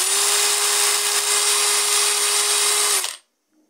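An OK K1219 cordless drill runs unloaded at a steady high speed, giving a continuous whine for about three seconds before it stops abruptly into silence.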